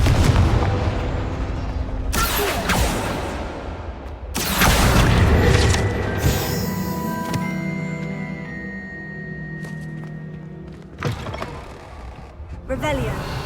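Several Confringo fire-spell explosions from Hogwarts Legacy boom one after another as loud, sharp blasts in a combat scene, separated by brief lulls and ringing, shimmering tails.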